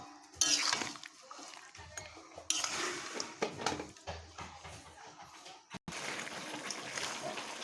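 Potatoes being stirred with salt in a pot while cooking biryani, the spoon scraping and clinking against the metal in a steady run of close, busy strokes, with a brief pause near the end.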